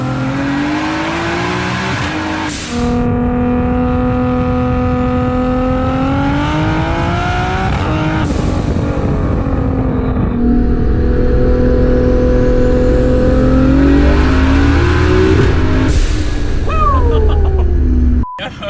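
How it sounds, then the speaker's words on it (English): A 1100 hp Nissan R32 GTR with a PPG sequential gearbox pulls hard in third gear off a brake boost launch, the loud engine note climbing in repeated sweeps while the tires spin and squeal, with brief shifts between the pulls. "it's gonna be a little more calm in third gear with the brake boost, and bro, it just lights the tires up"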